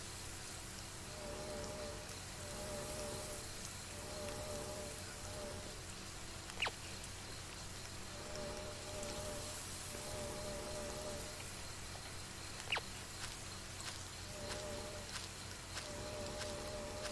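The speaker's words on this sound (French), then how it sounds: "je savais même pas qu'il y avait la pluie programmée dans le jeu" Steady rain pattering in the video game Rake, a soft continuous hiss with faint low hum beneath and two brief sharp ticks, no talk.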